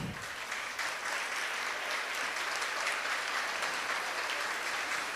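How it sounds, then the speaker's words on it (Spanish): Steady applause from a conference audience welcoming two invited speakers, dense and sustained throughout at a fairly quiet, even level, with no talk over it. "a las dos vamos a recibirlas con un fuerte aplauso."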